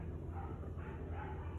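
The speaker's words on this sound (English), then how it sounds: "Big, strong, healthy, sweet puppies." Two-week-old puppies yip and whimper softly, faint high little cries over a low background hum.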